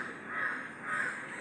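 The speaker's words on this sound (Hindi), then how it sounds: "यहाँ आसपास में कौवे है और कबूतर है" Crows cawing close by outdoors, two drawn-out harsh caws in a row, loud and clear with no talking over them.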